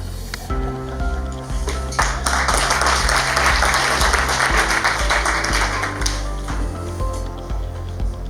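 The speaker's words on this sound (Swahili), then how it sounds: "Makofi tena" An audience at a conference hall convening on a national constitution audit claps in sustained applause that swells after a couple of seconds and holds steady, with a low hum from the room.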